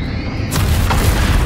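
A Confringo spell explosion in the Hogwarts Legacy video game erupts as a sudden loud fiery boom after a brief quieter moment, followed by a sustained rumbling burst.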